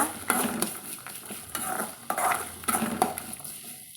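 Food sautés in a pan with salt until golden, a soft sizzle broken by repeated scraping strokes of a spoon against the pan, close up and without talk.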